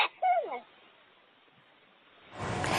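A raven mimicking a human sneeze gives a short, sharp, breathy burst at the start, then near silence before louder broadcast audio rises at the end.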